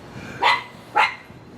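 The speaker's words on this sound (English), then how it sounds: "What you hear in the background is my stupid dog" Two sharp dog barks about half a second apart, moderately close, over a quiet background hum.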